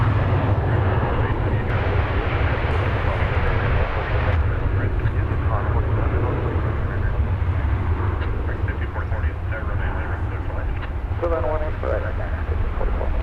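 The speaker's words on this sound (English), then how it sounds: "Here goes American Flight 2359. It's going to the Smile High City of Denver. It's in Airbus A321 for you on runway DFW." An Airbus A321 airliner of American Airlines, bound for Denver, on the runway at Dallas/Fort Worth airport, its engines a steady, broad roar throughout, mixed with a low rumble and with faint radio chatter underneath.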